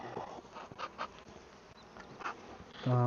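A honeybee swarm hums steadily around an apiary, a dense, continuous buzzing with passing louder drones as bees fly near, and a brief hard knock at the end.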